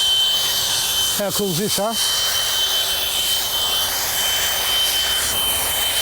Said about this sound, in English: This is our little garden auger.